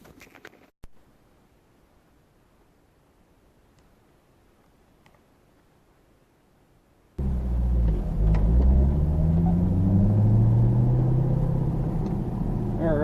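Car on the road captured by a Vantrue N2 Pro dash cam, heading to a bakery: near-silence for about seven seconds, then a sudden steady loud engine and road rumble with tire noise carrying on to the end.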